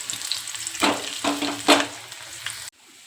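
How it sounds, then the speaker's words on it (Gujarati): Garlic cloves fry in hot oil with a close, steady sizzle and a few louder bursts as they are stirred. The sound cuts off sharply near the end. "આપણે નાખી દઈએ લસણની કળી અને કળીને એકદમ ગોલ્ડન બ્રાઉન થવા દેવાની."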